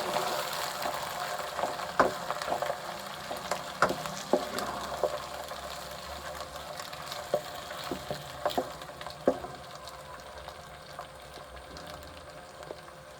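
Mutton liver (kaleji) frying with onions in a pan, a steady low sizzle with scattered crackles and occasional clinks of a stirring utensil, close and moderately quiet.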